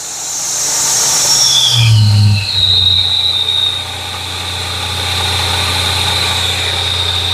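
A restored Sawsmith radial arm saw spins at 6,400 RPM, giving a loud, steady motor drone and high whine that shift in pitch early on, then settle into a constant hum to the end.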